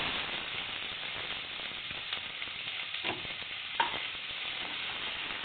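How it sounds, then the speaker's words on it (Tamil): Onions frying in hot oil with cinnamon and cloves give off a steady, moderate sizzle that runs throughout, with a few soft stirring clicks near the end. "இப்போ நாங்கள் வெங்காயம் சேர்த்துக்கிறோம்"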